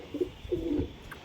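A pigeon gives a soft, close coo in two short throaty phrases, with quiet background between them.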